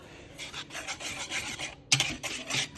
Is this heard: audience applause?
no